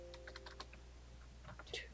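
Quick, light taps on a computer keyboard as a folder name is typed, a brisk burst of keystrokes close by with a short pause before a few final taps, over a low background hum.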